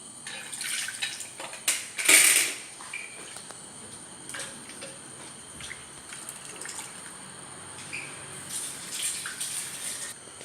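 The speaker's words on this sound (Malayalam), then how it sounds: "കുറേശ്ശെ വെള്ളം കൂടി ഒഴിച്ച് കൊടുക്കുക." Water is poured bit by bit into a simmering mutton curry, giving splashy trickles and a louder pour burst early on, then quieter drips and gurgles in a small kitchen.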